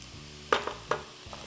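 A spoon scrapes and taps in a sizzling pan while garlic paste and tomato paste are stirred for jambalaya, three or four quick clinks over a soft sizzle.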